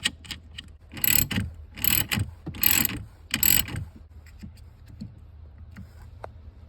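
Ratchet tightening the 10mm bolt on the positive battery terminal of a Maserati Ghibli, four close bursts of rapid clicking, followed by quieter scattered clicks and handling taps.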